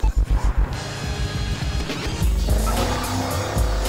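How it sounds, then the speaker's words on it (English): A car in Battlefield Hardline speeds away: a rapid series of loud thumps gives way to a roaring engine and a rising tire squeal, close and loud. "Oh, dude, you just took off in a nice car."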